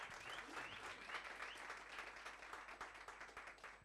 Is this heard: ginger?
no